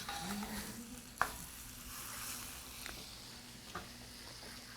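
Sole fillets frying in a pan with butter, a steady, close sizzle that runs throughout, broken by a few sharp clinks and scrapes of a utensil against the pan.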